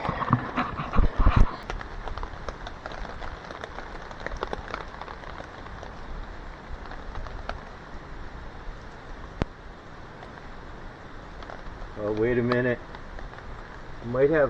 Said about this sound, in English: The rain's not too heavy right now.